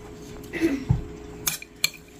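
Metal utensils clink and tap against a dish while onion is added to beef tongue tacos. A few short, separate knocks and chinks sound close by with quiet gaps between them, and no one speaks.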